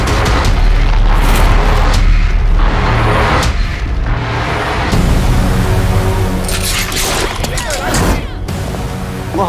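Loud, heavy bomb blasts in a Hong Kong-style action movie trailer, a series of deep booming explosions with crashing debris layered under dramatic music and dialogue.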